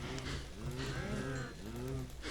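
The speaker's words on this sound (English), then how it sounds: "Cows are making love right behind me." Cows in the video game Minecraft moo close by, several drawn-out, wavering lows following one another in quick succession, fairly loud with no talking.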